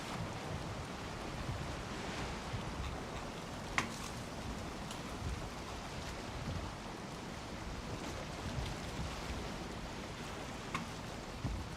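Valheim boat sailing over open waves, a constant wash of surf and wind with soft splashes against the hull, steady and moderately quiet throughout with occasional brief knocks and no talking.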